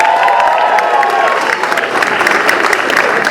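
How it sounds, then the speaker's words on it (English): Audience at a university Strictly dance show applauding and cheering loudly, a dense burst of clapping with a few whoops over it, close and sustained. "give a big cheer for Chloe"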